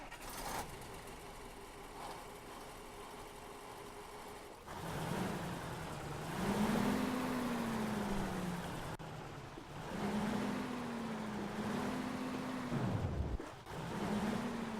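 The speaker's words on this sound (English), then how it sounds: "let's start this up then, and we'll see what the engine sounds like." A truck engine in Euro Truck Simulator 2, a modded Ural 6464, cranks and turns over after a quiet hum, then settles into a rising and falling drone that revs up and down a couple of times.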